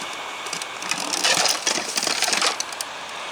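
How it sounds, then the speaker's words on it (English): A power drill whirs and grinds through a plastic car dash tab for about two seconds, with crunching, crackly bursts as the bit cuts, then winds down. "I'm going to drill a hole in it."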